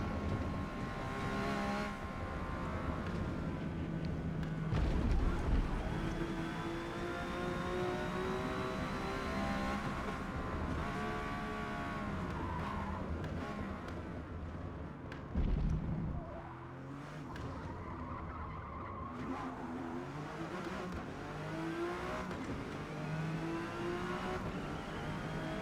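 In the Forza Motorsport video game, a Porsche 911 GT1 race car accelerates around the Spa circuit. The engine note rises steadily through the gears with high revving pitch sweeps, and the roar goes on without a break.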